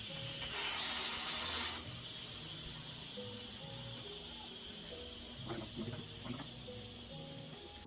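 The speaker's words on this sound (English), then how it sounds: "So we're gonna go ahead and release the steam." Steady loud hiss of an Instant Pot venting steam, continuous throughout with slight fading, with faint low tones underneath and no voices.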